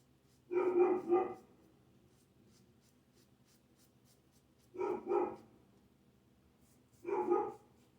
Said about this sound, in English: We'll see how long the dog barks.